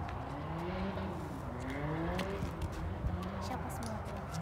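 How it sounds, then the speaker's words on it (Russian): Go-karts lapping a rooftop track at Arena Lviv, their small engines whining and rising and falling in pitch at moderate distance under a steady background wash, with voices nearby. "Тут вот есть картинги. Такая трасса по крыше."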